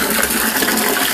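Hot water gushing from a cylinder into a bucket for mixing molasses, a steady broad splashing rush, loud and close, with no talk.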